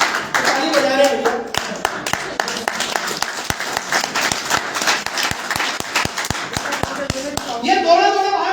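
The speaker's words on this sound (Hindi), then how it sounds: "ताली बजा रहे हैं।" A seminar audience claps together in a hall, a steady run of sharp, rhythmic hand claps under loud talk and background chatter throughout.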